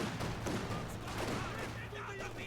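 A light machine gun in Company of Heroes 2 rattles in dense, continuous bursts among other battle noise, while a commentator talks over the fire.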